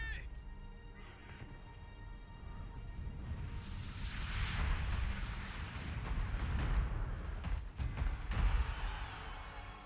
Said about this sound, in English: all of our artillery missed in spectacular fashion